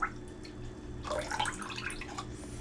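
Evaporated milk poured from a can into a pot, a soft, close liquid splash and trickle that swells for about a second before tapering off, with no talking.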